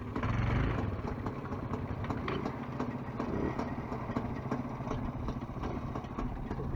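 Motorcycle engine idling with a steady, rough low rumble that stays fairly constant throughout, heard outdoors at a moderate distance, with no talking.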